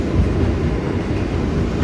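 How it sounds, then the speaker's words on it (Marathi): An express train overtakes an AC slow local on the Mahalaxmi–Borivali line near Jogeshwari in Mumbai, a steady loud rumble of rolling wagons and wheels on rails that carries on throughout without a break. "हे बघा अजून एक एक्सप्रेस ट्रेन."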